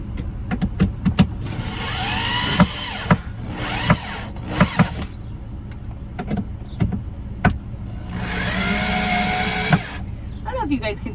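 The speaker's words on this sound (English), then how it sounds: "let's get to drilling." Power drill whirring through several bursts during a build-out of a 2017 Subaru Outback car camper, with long motor runs separated by clicks and knocks, nearby, and some talking in between.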